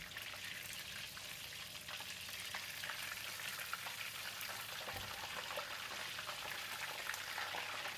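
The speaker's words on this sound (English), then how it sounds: "Let's put the fish tail in the oil." Fish frying in hot oil in a pan, with steady dense sizzling and crackle throughout, close and continuous, with a faint low hum underneath and no talking.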